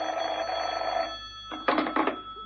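An old-fashioned telephone bell rings in two quick bursts close by, following a steady humming tone in the background.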